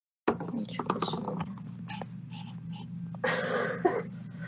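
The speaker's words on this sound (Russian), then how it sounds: "Ты кашляешь как дед." A person coughs several times in close, harsh bursts, followed by throat clearing and breathy sounds in a quiet indoor room.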